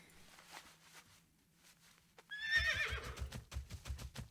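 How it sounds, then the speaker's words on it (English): Horse mount in the fantasy game World of Warcraft Classic whinnies, then its hooves break into a steady galloping clip-clop that runs loud and close to the end, over faint game ambience. "Giddy up, horsey."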